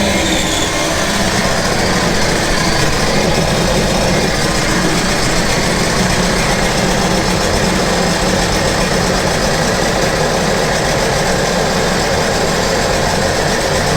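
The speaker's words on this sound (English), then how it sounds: "I'm going to rev it up as well, just to see if it's hitting the limiter or not" A 2014 Sea-Doo GTX 215 jet ski engine being checked for fuel system and electrical faults runs loud and close, holding a dense, steady drone with a buzzy high whine and rough vibration throughout.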